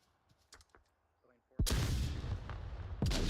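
A frag grenade detonates in the tactical shooter Onward VR, a sudden loud, booming blast followed by a roaring sustained rumble and a second burst, after quiet faint sounds beforehand.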